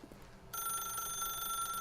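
A telephone rings inside a horror-style video game, starting abruptly partway through as a steady, sustained electronic ring that holds loud and constant to the end after a quiet lead-in.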